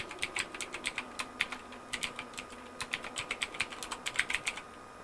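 Fast, steady typing on a computer keyboard, a rapid run of close, light clicks with a faint background hum.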